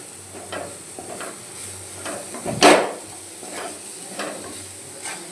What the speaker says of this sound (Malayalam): എന്നിട്ട് നമുക്ക് വീണ്ടും മിക്സ് ചെയ്ത് കൊടുക്കാം ഗൈസ്.